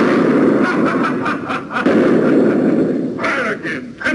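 Heavy gunfire in a battle scene, booming shots and bursts rumbling repeatedly over a dense, chaotic background, loud and near.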